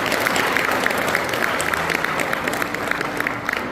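Sustained applause from a church congregation at a Korean Presbyterian-style officer installation and thanksgiving service, dense steady clapping filling the hall without pause.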